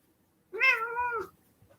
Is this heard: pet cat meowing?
yes